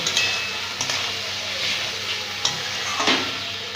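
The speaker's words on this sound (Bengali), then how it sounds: "ভেজে রাখা পটলগুলো দিয়ে দিব ভালো করে কষিয়ে নিব" Fried pointed gourd pieces being stir-fried in a pan with a little water, a steady close sizzle with occasional scraping stirs, no voices.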